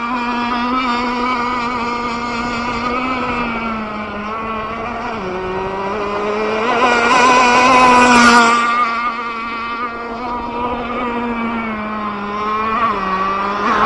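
A 30cc gas-powered RC hydroplane boat engine runs steadily and loudly throughout, its buzzing tone dipping and rising with the throttle and swelling to a peak near the middle before settling back.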